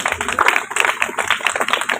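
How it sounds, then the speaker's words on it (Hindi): Audience applause during a Hindu religious discourse on the Shrimad Devi Bhagwat Katha, a dense, steady wash of many hands clapping continuously throughout, fairly loud and close, with no talking over it. "आपकी तालियों ने मुझे याद दिला दिया"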